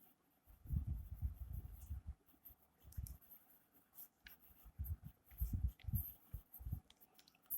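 An accountancy journal entry is written out by hand: irregular bursts of close pen or marker strokes with short pauses between words, and no voice during the writing.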